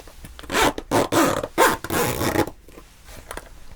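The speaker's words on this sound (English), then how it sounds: "these ones zip up at the back" Zipper on a superhero costume that fastens up the back, pulled in several quick, close rasping strokes with short pauses between them, nearby and fairly loud, with no talking.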